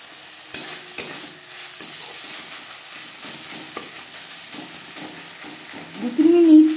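Spices stir-fried with onion and garlic in a pan for a Bengali chela fish curry, with soft sizzling under intermittent spatula stirs and scrapes, ending in a louder clatter of stirring.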